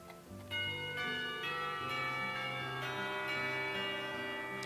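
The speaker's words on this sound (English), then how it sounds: "the bells are signaling the end of the break" School bells in the visual novel Katawa Shoujo ring out in a sustained, layered chime marking the end of a lunch break, loud and continuous with overlapping tones and no talk.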